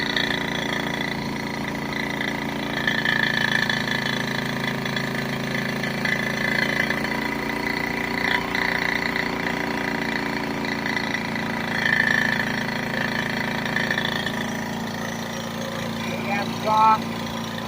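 A wood gas powered DXF generator engine runs at a steady, droning idle with a constant mid-pitched hum and whine, loud and close, with slight surges in level.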